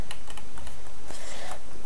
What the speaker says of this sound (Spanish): Sé que estáis oyendo las teclas del